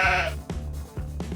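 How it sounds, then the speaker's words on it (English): A Minecraft toy black sheep lets out a loud, close electronic bleat, followed by two shorter bleats spaced about half a second apart, with no one speaking. "Okay, I guess it's the black sheep."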